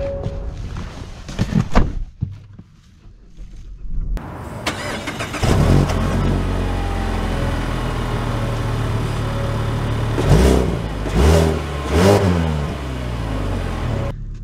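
A 2024 Mazda 3 sedan starts off after a few door and cabin thunks, its engine then droning steadily with rising revs and a couple of sharp surges as it accelerates, heard from inside.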